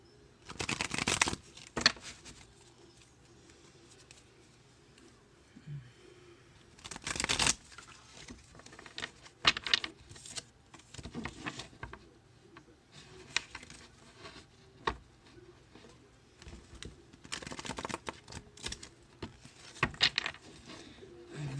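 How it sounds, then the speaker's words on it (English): A deck of tarot-style cards is shuffled in repeated bursts of riffling and flicking, close and fairly quiet, separated by softer handling pauses. "Shuffling well."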